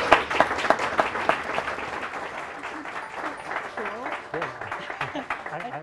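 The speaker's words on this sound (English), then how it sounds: "The audience is free to cheer if they want to now for the two" An audience applauds two debaters after a mobile device management debate, a dense wash of clapping that starts strong and then thins, with voices calling out and talking over it toward the end.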